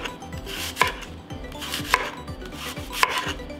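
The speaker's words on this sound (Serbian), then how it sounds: "Ovaj središnji deo ćemo očistiti i iseći na kriškice." A knife slices cored apples into thin pieces on a cutting board, giving three sharp, evenly spaced chops that stand clearly above a quiet background.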